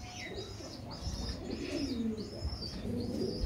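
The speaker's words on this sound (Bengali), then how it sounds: "এটা হলো এক পেয়ার টেডি কবুতর।" A pair of teddy pigeons coo softly and repeatedly at close range, with low, rolling calls and a few thin chirps over quiet surroundings.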